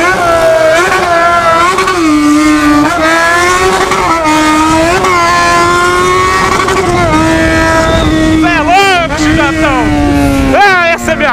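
A Yamaha XJ6 motorcycle rides along with a loud, sustained engine drone that rises and falls through the gears, while someone talks loudly over it throughout.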